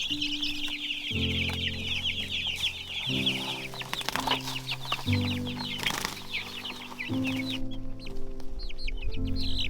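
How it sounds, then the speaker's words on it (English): Red Ranger chickens cluck and chatter constantly, with occasional wing flapping, over a steady low mechanical hum. "We got a new batch of chickens, but this time they were Red Rangers."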